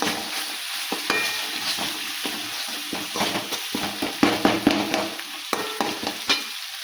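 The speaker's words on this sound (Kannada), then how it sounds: "ಸ್ವಲ್ಪ ಹಾಕಿದ್ರೆ ಕೊತ್ತಂಬರಿ ಈಗ ಚೆನ್ನಾಗಿ ಮಿಕ್ಸ್ ಮಾಡ್ಕೊತಾರೆ" Vada batter with coriander is stirred in a bowl or pan with steady scraping and wet swishing strokes, loud and close, with irregular clicks of the utensil throughout and no talk.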